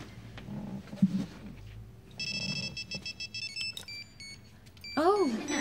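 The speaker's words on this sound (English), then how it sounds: "if we phone it, when it rings, we'll hear it" A mobile phone rings with a bright electronic chirping tone under ongoing talk in an indoor scene, the ringing starting midway and continuing as a melodic warble near the end.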